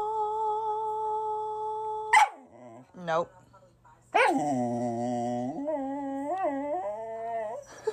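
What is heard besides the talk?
dog howling as if singing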